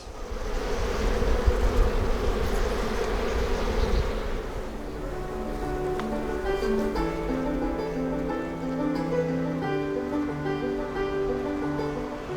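Honeybees buzz continuously around a traditional Japanese hive box, a dense, moderately quiet hum that holds steady, with no voices.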